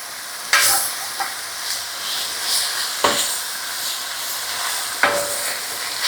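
Garlic and onions fry over very high heat for a hunter's stew, with a loud, steady sizzle and hiss broken by three sharp stirring clatters spaced a couple of seconds apart.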